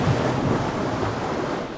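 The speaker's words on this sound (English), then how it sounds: "I just saw lightning crack off in the horizon. It's coming, it's coming." Thunder from a storm approaching over a lake on Isle Royale, a low, continuous rolling rumble that carries loud and steady throughout the short span.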